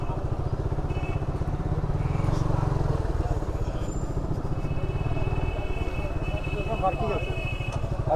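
A motorcycle engine chugging in a rapid, steady pulse close by while the rider manoeuvres into a parking area at Mahasthangarh, Bogura, with people talking over it.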